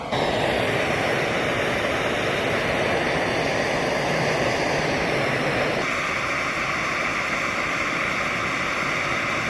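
A Jetboil MightyMo gas camping stove burner with its valve fully open gives a loud, steady roaring hiss of flame, close and unbroken throughout, with no talking.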